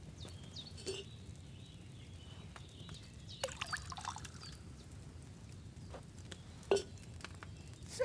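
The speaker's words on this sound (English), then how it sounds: "So, what did you pour in there? Wine, of course." Wine poured into a cauldron in Kingdom Come: Deliverance 2, a faint trickle and dribble of liquid over a low background hum, with a few small clinks and splashes scattered through.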